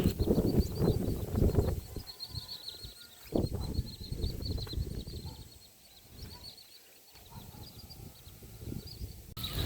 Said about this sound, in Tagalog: Nadidinig ko po yung mga huni po ng ibon.